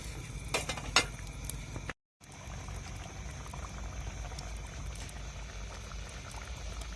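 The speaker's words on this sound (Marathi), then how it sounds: "कारले चांगली उकळी येऊन देऊ" Bitter gourd curry boils in a pot with a low, steady bubbling that stays faint and continuous. There are a couple of light utensil clinks near the start and a brief gap of silence.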